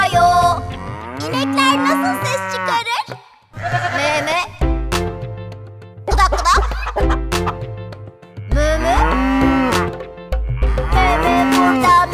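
Cattle moo loudly several times, mixed with bleating, over a sung Turkish version of the children's song Old MacDonald Had a Farm, with voices and music throughout.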